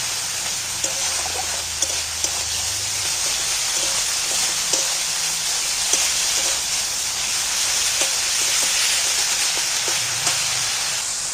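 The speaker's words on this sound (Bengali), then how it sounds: "আদা রসুন বাটাটা তুলে দিচ্ছি। 1 চামচের মতো হয়েছে, 1 চামচের মতো দিয়েছি। আদা রসুনটা একটু ভেজে নেব।" Ginger-garlic paste sizzling in hot oil gives a constant close hiss, with a few soft clicks of stirring scattered through it and no voices.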